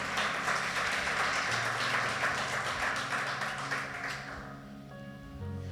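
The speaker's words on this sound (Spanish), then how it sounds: "Dale un aplauso al Señor." A church congregation at a sermon breaks into sustained applause, a dense, loud wash of clapping that holds steady and then thins out, with a faint tone underneath near the end.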